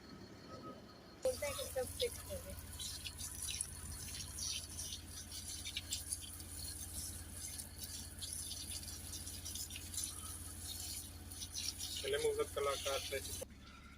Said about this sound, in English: we've just hosed up a bit of that soot there